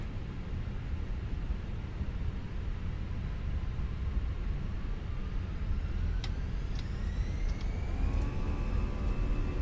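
Airbus A320 engines roar steadily during the takeoff roll in Microsoft Flight Simulator, a dense continuous broadband rumble with a rising whine that climbs in pitch near the end.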